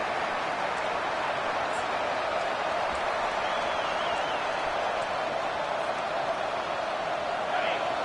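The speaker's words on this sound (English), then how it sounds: "listen to this crowd noise. This stadium is vibrating." A steady, dense roar of a large football stadium crowd in a video game fills the whole stretch, continuous and even, like a packed stadium heard from within.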